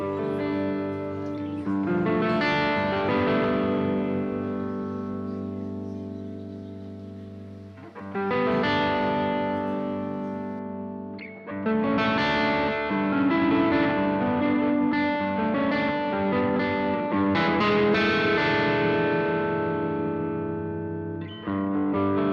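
Electric guitar played through a lush plate reverb, sustained chords ringing out with long, smooth decaying tails, loud and up close, with brief gaps between phrases and no talk.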